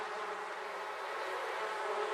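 Dense buzzing of a swarm of bees in a beekeeping video game, a continuous steady hum with no talk.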